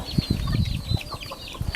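Chickens cluck nearby in short, irregular bursts, several brief calls over a quiet outdoor background.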